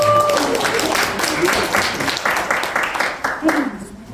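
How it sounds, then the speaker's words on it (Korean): Applause in a packed church seminar room fills the space as a workplace mission class begins, a continuous wash of clapping with some voices heard beneath it, fading slightly toward the end. "하나님께 영광의 박수로 올려드리겠습니다"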